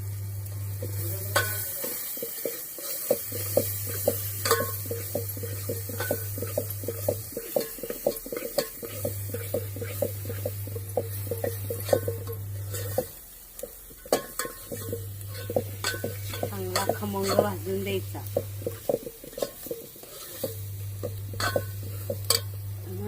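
Chutney roasts in a pan over a low wood fire, with continuous soft sizzling and repeated stirring scrapes and clinks of a utensil, close up and alone throughout.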